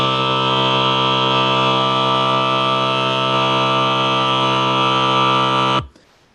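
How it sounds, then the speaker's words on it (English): A sustained, buzzy chord tuned as a barbershop-style harmonic seventh with a very low flat seventh, holding steady and loud for about six seconds before cutting off abruptly into near silence. "So that is the sound of the harmonic seventh"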